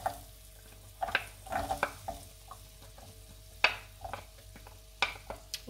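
Carrots tipped into a hot frying pan for a vegetable rice dish and stirred, giving a low sizzle broken by several sharp scraping strokes of a spoon at irregular intervals, close by, with no talking.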